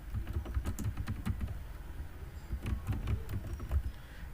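Close keystrokes on a computer keyboard come in quick irregular bursts with brief pauses, a soft clicking patter with no voices heard.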